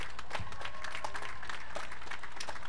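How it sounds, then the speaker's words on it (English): Applause from a high school graduation ceremony audience, a soft, fairly distant wash of many hands clapping together. "Mrs. Lynch's talents and efforts deserve a heartfelt round of applause."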